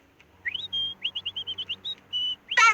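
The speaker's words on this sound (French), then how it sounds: "Pour trouver le sommeil, il n'y a rien de mieux que le chant d'un délicieux petit oiseau charmant." A small bird sings a quick run of short, bright whistled chirps, close and clear against near silence, ending in a harsher burst.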